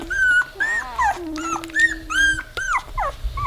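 A one-week-old silver Weimaraner puppy whimpers and yips in a run of high, wavering cries, close and fairly loud, with short pauses between them and no talk.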